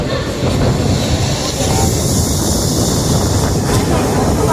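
Steady rumble and wind-like rushing of a Mumbai local train carriage heard from inside while riding, loud and continuous with no speech.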